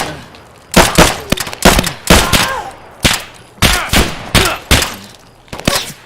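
Repeated bursts of gunfire in the video game Escape from Tarkov, close and loud, coming in several short volleys of rapid shots spread across the clip with brief gaps between them.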